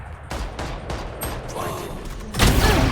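Video game gunfire: a string of sharp shots through the first seconds, then a louder burst near the end, with players chattering in the background.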